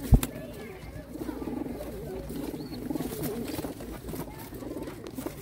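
Young pigeons cooing at a lot sale of fifty squabs for competition racing, with soft repeated coos mixed with a sharp knock at the start and low background noise.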